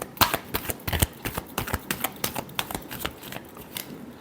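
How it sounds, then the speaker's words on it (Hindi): Tarot cards being shuffled by hand, a rapid run of crisp, close papery flicks and taps in an uneven rhythm lasting a few seconds. "last shuffle"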